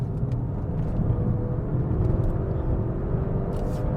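A 2024 Genesis G70 Sport saloon holds a gear through a corner, its engine giving a steady, moderately loud low rumble heard from inside the cabin with no talking.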